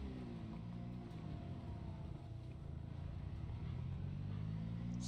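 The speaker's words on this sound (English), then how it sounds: "is this vehicle extra noisy?" A steady car engine hum in the video game Project Zomboid, with a low, droning rumble and faint pitch shifts, running continuously without any voices.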